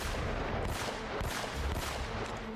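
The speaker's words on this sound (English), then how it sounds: "I am actively shooting that guy" Gunfire in the video game Uncharted: Drake's Fortune, a dense run of loud overlapping shots and blasts filling the whole moment without pause.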